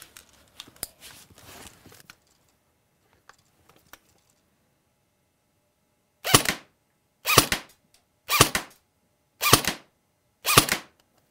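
An Umarex Elite Force M4 CQB AEG airsoft rifle fires six sharp, evenly spaced single shots downrange, each a crisp close crack, after a stretch of faint handling clicks and near silence.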